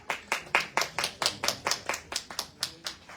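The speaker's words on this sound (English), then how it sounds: "Please give them a round of applause" Steady rhythmic clapping at a book launch, about a dozen sharp claps in three seconds, close and fairly loud, sounding like only a few pairs of hands.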